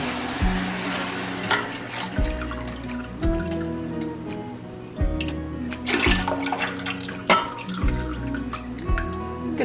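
Apple cider glugs and splashes as a quart of it is poured out, a repeated pouring rhythm of loud gurgling bursts with trickling and dripping in between.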